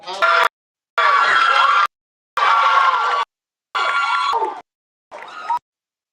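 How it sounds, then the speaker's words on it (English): A cheering section at a medical school white coat ceremony erupts in several separate bursts of shouting and screaming, each lasting about a second, with silent gaps between them. "That's a cheering section."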